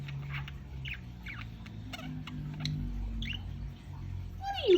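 A female budgie chirps and chatters in short, quick bursts, soft and close, ending in a brighter whistle-like call.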